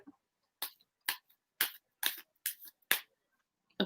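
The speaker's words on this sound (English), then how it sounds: "Shall I shuffle?" Tarot cards being shuffled in a series of six sharp, crisp riffling bursts spaced about half a second apart, close and clear against near silence.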